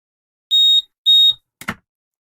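An Arduino gives two short, clear electronic beeps of equal pitch on connecting, about half a second apart, followed by a brief soft knock.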